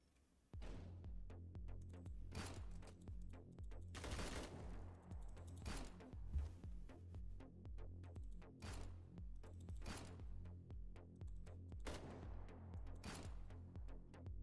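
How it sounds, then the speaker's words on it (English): Rapid bursts of gunfire from Roblox play, repeated sharp shots in quick clusters with a steady throbbing background, loud and close, no talking. "Perfect shooting. Shot in the face."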